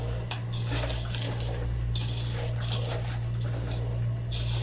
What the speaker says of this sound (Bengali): সব পেঁয়াজ মরিচ সবগুলো দিয়ে এখন ভালো করে এটাকে মাখাতে হবে।